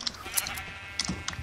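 Sheep in the Minecraft video game bleat in quick short calls, several clear cries stacked close together in a brief burst.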